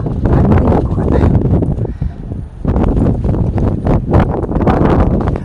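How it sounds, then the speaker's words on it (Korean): Strong wind blows outdoors at night, roaring and buffeting the microphone in heavy gusts, with a short lull midway before the loud rushing returns. "지금 바람이 너무 심해가지고요, 이 바람 소리 때문에 제 목소리가 안 들릴 것 같아요"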